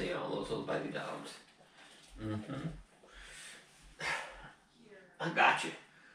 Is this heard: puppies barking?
yes